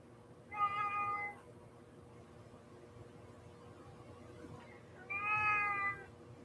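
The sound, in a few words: cat meowing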